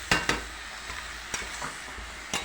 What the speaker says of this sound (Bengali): এখানে আমি চিকেনটা একটুখানি আগে তেলে ফ্রাই করে নিচ্ছি